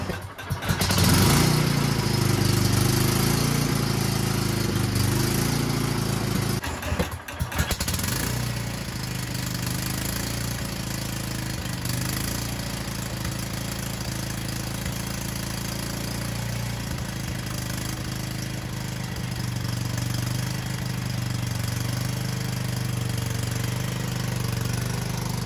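A Craftsman T210 riding mower engine cranks and starts, revving loudly at first, then settles into a steady, close idle drone that holds for the rest of the stretch.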